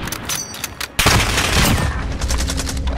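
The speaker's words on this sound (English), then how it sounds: "You just shot half a magazine, and he shot through it" Gunfire in a video game shooter during a bomb-planting round: loud, rapid bursts of automatic fire with a sharp surge of shots partway through, close and dense.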